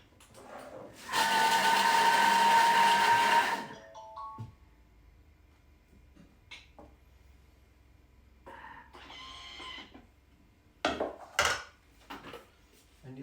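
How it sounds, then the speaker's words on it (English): A food processor chops spinach and herbs at speed 6 in one loud, steady whirring burst of about two and a half seconds. Faint clatter and bumps follow as it stops and is handled. "we're just going to chop these down. So it's going to take about 2 seconds at speed 6"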